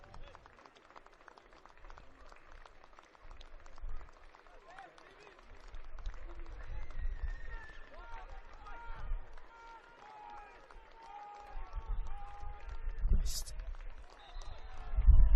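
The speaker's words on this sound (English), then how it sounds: "a minute's applause" Sparse, quiet applause from a crowd at a Melbourne Knights FC versus Altona Magic soccer match during a minute's tribute, heard under commentator speech with low rumbling crowd noise.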